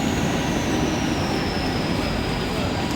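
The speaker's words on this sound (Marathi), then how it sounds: "8:35 की अंबरनाथ जाने वाली तेज लोकल थोड़े ही समय में प्लेटफॉर्म क्रमांक 3 पर आ रही है" A Mumbai local train arriving at a platform at night rumbles loudly and steadily, with a continuous high metallic squeal of wheels on rails running throughout.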